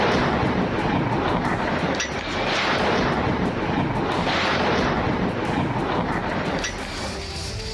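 Bombs fall and explode in Lebanon during the Israel-Hezbollah war, a dense roar of rumbling blasts and booming impacts that stays continuous and loud throughout, with no voices.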